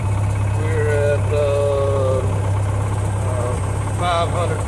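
A light aircraft engine idles at a small airfield, a steady low drone under a person talking throughout.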